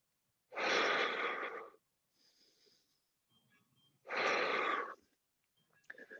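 Two loud, long breaths during a live boot camp exercise class, each about a second long and separated by quiet pauses with faint rustling and movement.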